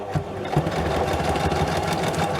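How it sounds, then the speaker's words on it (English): A sewing machine runs continuously, stitching paper pieces for a junk journal, its rapid, even stitching hum close and steady throughout. "I'm going to feed it into the sewing machine as it's still going"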